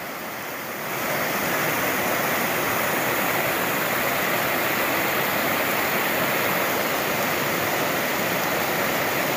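A cold mountain stream on the Appalachian Trail rushes steadily, a loud broadband wash of flowing water that swells in after the first second and then holds constant, with no talking.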